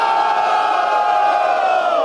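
A rap battle crowd cheering and shouting, a dense, loud, sustained roar of many voices with whoops and yells, steady throughout with no single speaker standing out.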